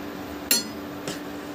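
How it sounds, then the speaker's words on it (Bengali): A spoon knocks twice against a cooking pot while red lentil dal with onion and garlic is stirred, two sharp clinks about half a second apart over a faint low background. "চিনিটা দিয়েও আমি ভালো করে নাড়িয়ে দিলাম"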